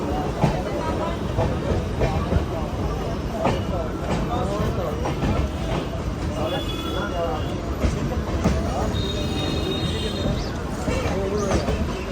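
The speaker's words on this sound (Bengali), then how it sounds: "Through train will be passing from platform number 1." A through train runs past platform 1 at Kalinarayanpur junction, heard from on board an express, with steady loud rumble and clickety-clack of wheels over rails and some faint squeals throughout.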